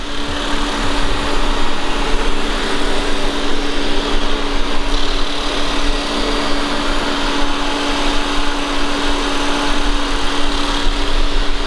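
An Ecovacs Deebot Ozmo 920 robot vacuum cleaning a home floor gives a continuous close whirring hum with a steady tonal whine, no voices over it.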